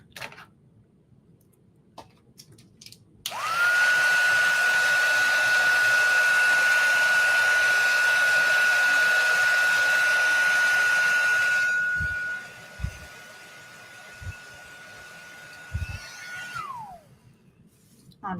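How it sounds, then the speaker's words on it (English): An electric heat tool heat-sets ink on a stamped card, roaring up as a loud, steady blowing hiss with a whining tone for about nine seconds, then easing off, with light handling clicks afterward. "I'm going to quickly heat set all of this so it's I'm really confident that the ink is dry."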